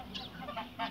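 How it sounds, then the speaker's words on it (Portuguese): Geese honk close by in a quick burst of short nasal calls, two or three honks within a second, fairly faint against a quiet outdoor background. "Aqui mostrei aí os meus gansos para vocês"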